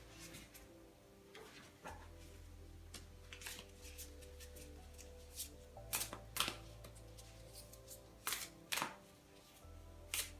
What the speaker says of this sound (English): I'm just going to pull one more card now, just to one final message for you from Spirit.